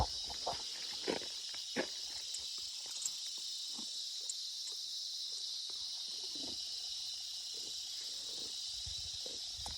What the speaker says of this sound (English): And here are the cicadas.